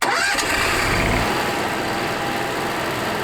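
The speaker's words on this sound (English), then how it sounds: "have the noise of the generator" A small RV generator engine starts with a rough catch and then runs at a steady, loud drone.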